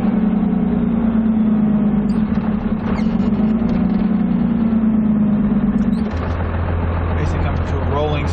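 A car pulls away from a standstill in second gear on a gentle launch, the engine note rising steadily and loud, then dropping sharply as the shift comes near the end.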